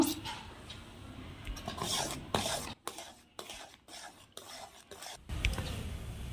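Homemade grape jelly thickening in a pot is stirred steadily, a close, continuous soft scraping and rubbing broken by a few brief pauses, with no talking.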